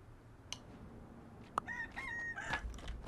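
Rooster crowing in the Kingdom Two Crowns video game, a clear cock-a-doodle-doo call preceded by a few short clucks and clicks, quiet and unaccompanied by speech.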